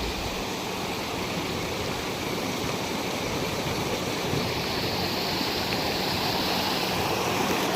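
A river swollen with strong current rushes steadily, a dense, unbroken roar of flowing water that holds at an even level throughout with no voices.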